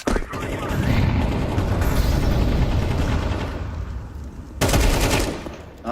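Sustained rapid gunfire with a heavy grenade blast in a round-based team shooter video game, loud and dense throughout, with a second sharp burst near the end; players talk over it.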